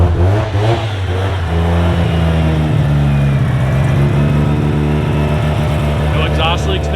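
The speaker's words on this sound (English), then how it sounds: "Start it up. It started up right away." A Mazda FC RX-7 with a fully built 13B rotary engine idles just after starting, a loud, close, steady buzzing drone with a slight rising rev partway through.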